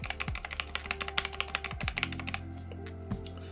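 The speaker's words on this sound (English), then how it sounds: "most likely in here is a piece of tape that is just making this noise" Computer keyboard with tape-modded stabilizers clacks through a quick burst of typing, sharp close key strikes with a rattly enter key, then slows to a few isolated taps.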